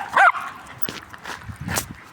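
A dog on a walk gives a short, high whine up close, followed by fainter whimpers and shuffling outdoor noise.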